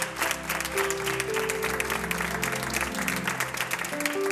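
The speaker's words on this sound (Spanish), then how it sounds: "llévate este aplauso" A television studio audience applauds steadily throughout, with a music bed playing underneath the dense clapping.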